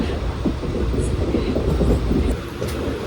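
The Guruvayur Express running on rails at night, a loud close rumble with rhythmic clattering of the coaches, heard from on board.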